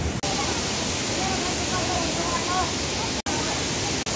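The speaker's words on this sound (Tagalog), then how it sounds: "this is a natural spring. Water from the mountain." Natural spring water pouring down from a mountain at a resort in Surigao del Norte, a dense, steady rushing roar close by that fills the whole stretch, with faint voices buried beneath it.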